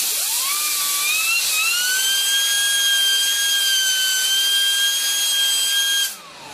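A small homemade PC fan generator spinning to power a string of 12-volt LEDs, giving a loud, steady high-pitched whine that rises in pitch as it spins up, holds constant, then cuts off abruptly near the end.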